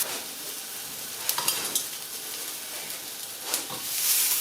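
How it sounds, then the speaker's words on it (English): A steak sears on a very hot griddle pan, giving a steady broad sizzle and hiss with a few sharper crackles and spits. The sound is close and fairly loud, and there is no talking. "And then we'll cook the steak for 3 or 4 minutes each side."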